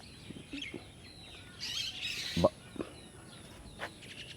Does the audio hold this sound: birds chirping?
yes